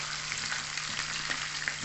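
Potatoes frying in oil give a brief, steady sizzle with light crackling, close and constant.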